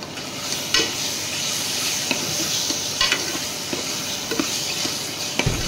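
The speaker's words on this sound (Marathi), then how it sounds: "आपलं वाटण चांगलं फ्राय झालेलं आहे" Ground masala paste fries in a pan, a steady close sizzle overlaid with several sharp scraping knocks of a spatula stirring at irregular intervals, no talking.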